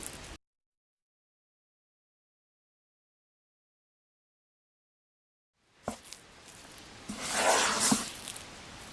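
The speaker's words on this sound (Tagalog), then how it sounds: "Haluin nating mabuti hanggang sa magsama-sama siya lahat." A thick yema pastillas mixture with jackfruit being stirred, heard as a soft, sticky squelching and swishing that starts after a long silence and lasts about three seconds.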